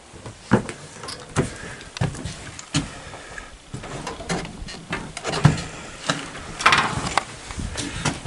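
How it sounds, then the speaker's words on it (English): Old screen door at a hunting spot creaks and rattles as it is handled, with irregular knocks and scrapes over several seconds, close and moderately loud, with no talk. "Screen door."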